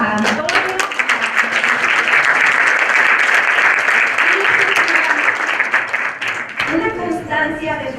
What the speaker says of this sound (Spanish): le damos un cordial aplauso a Antonio